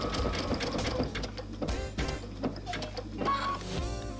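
A sewing machine stitches a dense satin stitch along raw-edge applique, a fast close mechanical chatter that pauses briefly before starting up again.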